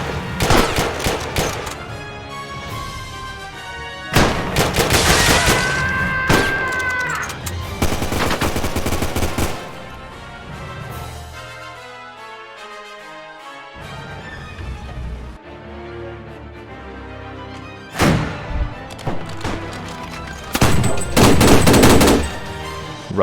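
Minecraft gunfire from a captured Russian tank turned on its makers in a large World War 2 battle game, with bursts of loud rapid shots that come in clustered volleys, pause, then resume near the end.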